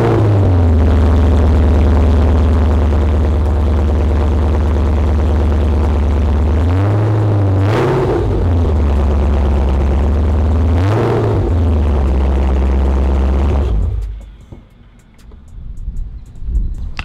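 A Dodge Challenger Scat Pack 392 with cut exhaust pipes idles with a loud, deep, lumpy rumble, blipped twice into sharp revs that fall back to idle before the engine shuts off and a quiet tail remains.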